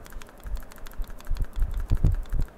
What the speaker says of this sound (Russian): камера внутри трясется